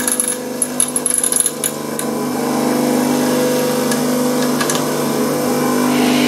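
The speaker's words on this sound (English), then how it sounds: "Then offer this up to the grinding wheel." An HSS drill bit, held steady in a holder, is ground on a grinding wheel while being shaped into an eighth-inch end mill; a few sharp ticks and contacts give way to a steady humming grind.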